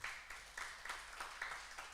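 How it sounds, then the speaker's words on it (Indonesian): Faint church congregation clapping during a worship service, rhythmic bursts of hand claps repeating steadily like a clapping beat, distant and quiet. "Berikan tepuk tangan"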